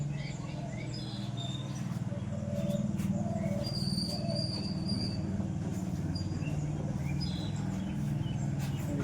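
Teddy and dabbala pigeons coo in a low, steady, overlapping murmur that runs throughout, with a few brief higher chirps above it.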